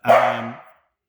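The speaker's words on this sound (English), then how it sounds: "apologize for my dog at the moment." A single loud dog bark, close and sharp, that fades quickly into silence.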